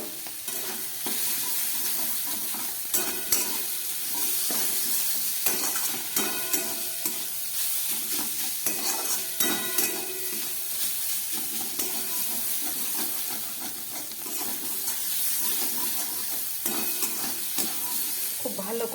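Ground coriander and Kashmiri chilli powder fry with vegetables in a pan for a spicy pasta, a continuous sizzling hiss broken by repeated scraping stirs of a spatula, heard close and alone.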